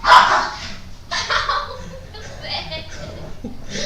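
Small dog barking indoors, a few sharp yaps in quick bursts close by, with people talking and chuckling in Portuguese around it.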